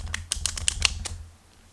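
Playing cards riffled by hand with thumbs releasing the deck, a quick burst of crisp close clicks and flutters over about a second, then quiet.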